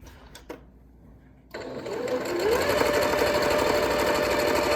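Sewing machine stitching the pleat of a fabric face mask, starting after a couple of soft clicks and settling into a steady, close, continuous mechanical whir.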